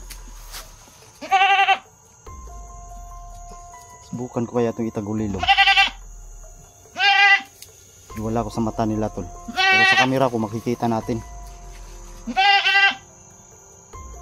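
Several loud goat bleats ring out in separate bursts, close by, alternating with someone speaking quietly in between.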